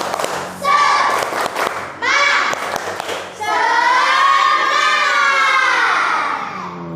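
A classroom of children performs a rhythmic spirit clap, with a few sharp, loud clap bursts in the first half followed by a sustained group shout in unison.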